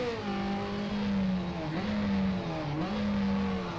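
A Lotus Cortina racing in rFactor at Oran Park drones with a steady, buzzy engine note, pitch rising and dipping through gear changes and downshifts, loud and close with no talk over it.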